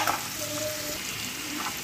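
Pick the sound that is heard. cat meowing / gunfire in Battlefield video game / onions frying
onions frying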